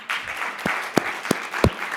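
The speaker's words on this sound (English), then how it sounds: "let's give Lisa a round of applause" An audience at a corporate innovation talk gives a round of applause, a steady wash of clapping with a few sharp, louder individual claps standing out near the front.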